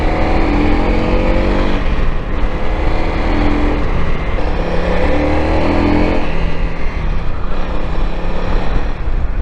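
A Honda CRF250L Rally motorcycle on knobby tyres rides off-road, its engine droning loud and steady with rising and falling revs through the whole stretch, heavy wind rush mixed in.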